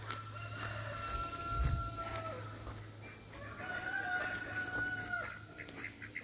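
Chickens on a small family farm, with a rooster crowing in repeated calls and hens clucking at moderate distance. A steady low hum runs underneath, and there is no talk.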